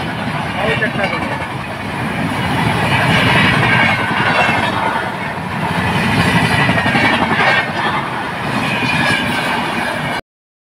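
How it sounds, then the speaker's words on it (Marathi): An express train on the Konkan Railway line, a Mumbai-bound service, rumbles past close by, a steady, loud rolling roar with faint clatter lasting most of the clip before cutting off. "एक एक्सप्रेस आलेली आहे."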